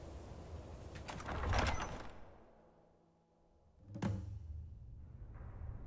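In a video game, a door swings open after being lockpicked: a loud sliding rush, then near silence, then a second heavy thud and scrape, close and unaccompanied by speech.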